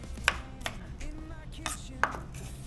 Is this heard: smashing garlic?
yes